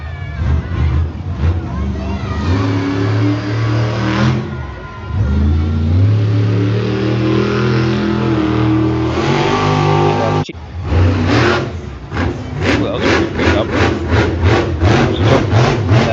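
At a monster truck freestyle show in Evansville, a truck's engine revs and roars in rising and falling surges, loud and sustained, while people talk over it.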